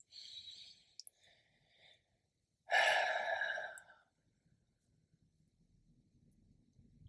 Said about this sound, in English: a big cleansing breath